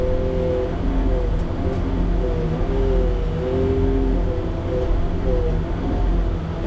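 A big truck engine rumbles steadily, loud and close, holding an even low drone for several seconds with no one talking.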